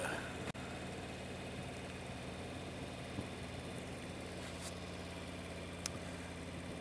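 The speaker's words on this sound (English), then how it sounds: "this is a 2017 Ultra Limited featuring the Milwaukee 8 engine" A 2017 Harley-Davidson Ultra Limited with the liquid-cooled Milwaukee-Eight engine idles steadily and close by, a low continuous rumble with a faint tick or two and no talking.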